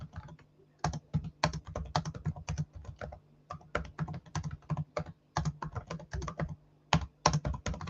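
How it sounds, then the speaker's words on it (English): Someone types a message on a computer keyboard, a close, quiet run of irregular key clicks and taps that keeps going with only brief pauses. "I have to just type a message back to Monica."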